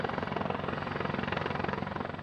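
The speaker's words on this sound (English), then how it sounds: "the Navy flight deck crew is practicing touch-and-go landings with some giant helicopters" A giant military helicopter doing touch-and-go landings on the flight deck of the Navy ship USS Gunston Hall, a loud, steady rotor thump with a fast even beat that continues throughout.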